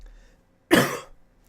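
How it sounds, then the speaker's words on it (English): A single short, harsh cough from an adult man with a lingering weeks-long cough, sharp onset then tailing off within half a second, close to the mic with no talk around it. "This cough has been on for like 8 weeks and won't go away."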